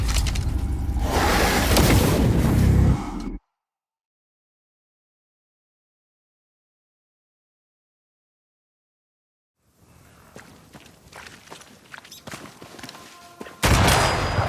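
Gunfire in the game Banishers: Ghosts of New Eden, a loud burst of shots at the start, a long silence, then quieter rumbling action and a final loud burst.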